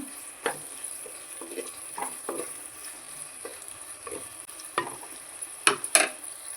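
Sliced onions softening in hot oil in a pan for egg biriyani, a steady low sizzle broken by occasional spoon scrapes and taps against the pan, ending in a few louder clinks.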